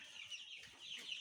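Brahman chickens and chicks clucking at a poultry farm, soft, close chatter of several birds in a short continuous stretch with no talk.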